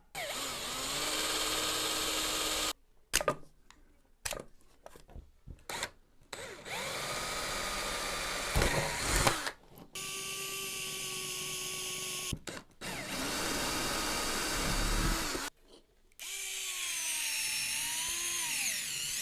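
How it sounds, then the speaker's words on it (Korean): A power drill bores ventilation holes through both sides of a case in a string of short whining bursts, each broken by brief pauses, with the motor pitch rising and falling. "열을 배출할 수 있는 구멍을 이쪽으로 송송송송 양쪽으로 뚫어 주도록 하겠습니다"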